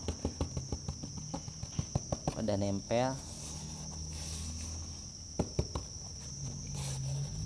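Crickets at a cricket-breeding farm keep up a steady, high, continuous trill, heard under close talk and quick tapping and handling noises.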